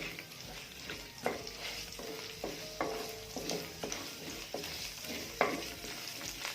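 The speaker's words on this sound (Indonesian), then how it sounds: "Oke, kita tumis dahulu ya guys." Kaffir lime leaves, lemongrass stalks, cinnamon and bay leaves sautéing in a pan for green-spiced chicken opor, a steady sizzle with several scraping stirs of a spatula spread through, no talking.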